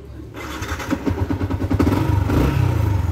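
Yamaha Sniper 150 V2 motorcycle engine starting up with a quick crank, then idling with rhythmic pulsing putts that rise into a louder steady rev, close by.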